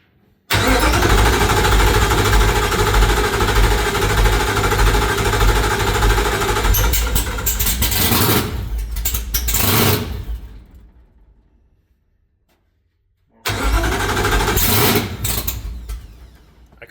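A car engine turns over and catches, then runs at a loud, rough idle for several seconds before cutting off into silence, then starts again with the same heavy rumble.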